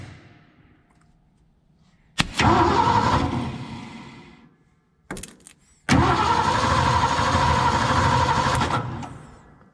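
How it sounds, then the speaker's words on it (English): A 1973 Ford F100 engine that has sat for 13 years cranks over loudly in two separate bursts of rhythmic starter churning, each lasting a few seconds and separated by a brief click and pause, without firing. "But the engine turns over just fine"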